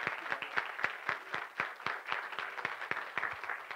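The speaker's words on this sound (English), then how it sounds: "So give him a hand as he comes" A church congregation applauds at a Sunday service, with steady, evenly paced clapping from a crowd heard at moderate distance and moderate volume throughout.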